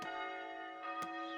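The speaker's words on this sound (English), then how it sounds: "Dueling bells." Church bells ringing in the medieval city-building video game Foundation, a sustained bright metallic peal with overlapping tones and a fresh strike near the end, fairly faint and with no voices.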